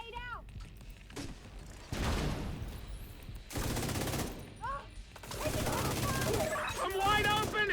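Video game firefight with separate bursts of rapid automatic gunfire that grow louder and denser toward the end, broken by short pauses and mixed with shouted voices and chirpy effect sounds.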